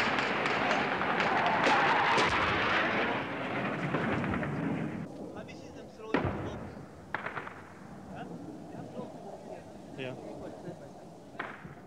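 A heavy, rumbling blast from aerial bombing by Russian-supplied MiGs rolls out and fades, followed by several sharper, more distant explosive cracks and thuds, with a voice talking faintly at times.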